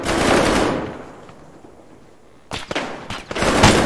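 Video game gunfire: a sustained automatic burst opens, then quiet, then more rapid shots crackle in close succession near the end.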